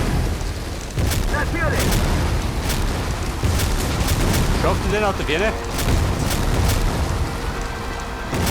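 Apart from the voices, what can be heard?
bomb explosion in video game War Front: Turning Point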